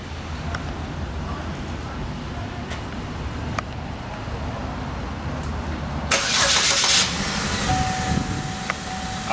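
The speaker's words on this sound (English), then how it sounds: "I am now told I need to start the vehicle." A 2013 Malibu car engine starts about two-thirds of the way in, a sudden loud burst over a low steady background rumble, then settles into a steady idle with a faint sustained tone.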